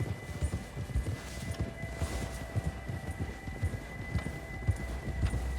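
Horse galloping in Red Dead Redemption II, a steady rhythmic clip-clop of hooves at a fast gait over a low rumbling ambience, heard alone and fairly close.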